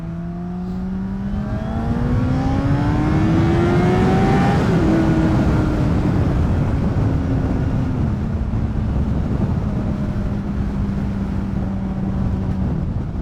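A 2010 Honda CBR600RR PC40 supersport with an inline-four engine accelerates on the street. Its loud, rising engine whine climbs steadily, drops at a gear change, then holds a steadier drone over wind noise.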